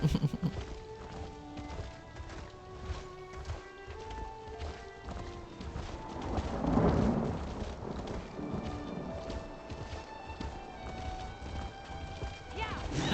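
A horse gallops in The Elder Scrolls Online, its steady rhythmic clip-clop of hooves running throughout beneath melodic game music and a singing voice, swelling briefly midway.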